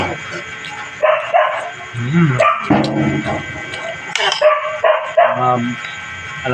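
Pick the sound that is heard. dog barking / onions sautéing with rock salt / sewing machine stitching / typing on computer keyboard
dog barking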